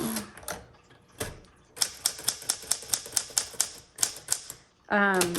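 Someone types on a 1960 Sterling manual typewriter, with a rapid, even run of crisp keystrokes followed by a carriage-return zip and a ding. A voice is heard briefly at the start and at the end.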